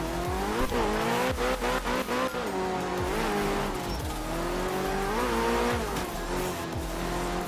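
Video game rally car from art of rally, an early Ford Cosworth, driven hard on a dry road with a steady loud engine drone, rising and falling revs, gear changes and tire scrub, with no talking.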